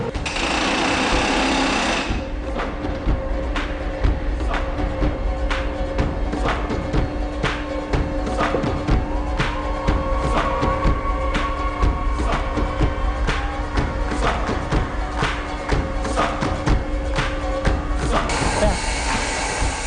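Continuous loud mechanical drilling in an underground mine with a steady droning hum and rapid repetitive hammering, a rock drill boring, with brief speech underneath.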